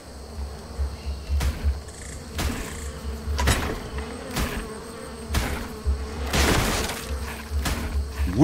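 Buzzing of flies in the video game Ark: Survival Evolved, a droning insect hum broken by repeated sharp impact or cracking sounds.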